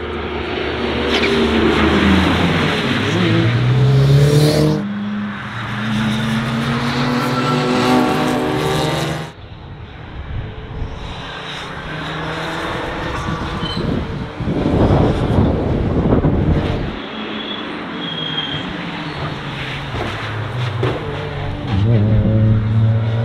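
A car driving on a race track roars close with rising and falling engine pitch through gear changes, heavy wind buffeting the microphone as it accelerates and brakes over a long run.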